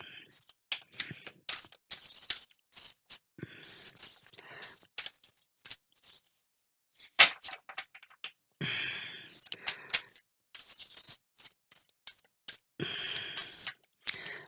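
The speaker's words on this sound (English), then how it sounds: "They will naturally start mixing as I shuffle them." Bursts of cards being shuffled, crisp riffling and shuffling sounds in short flurries, with a voice speaking quietly between them.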